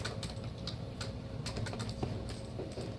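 Computer keyboard typing during a microprocessor class, a run of light irregular key clicks set against a steady room hum and background noise.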